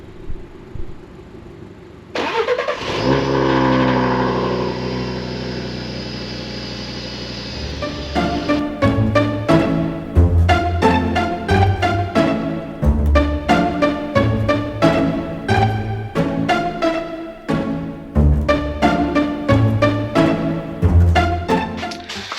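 An Audi RS car engine starts with a loud surge, settles to a smooth idle, then gives a long series of sharp, rhythmic revs and bursts up close, with no voices.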